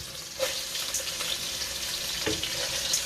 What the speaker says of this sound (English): I'm going to saute my cabbage some